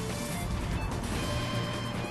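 An Ice Ball attack in Pokemon Colosseum plays as a loud, continuous crashing, grinding burst with a brief icy shimmer on top, short and close.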